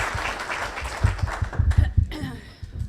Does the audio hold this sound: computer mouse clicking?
no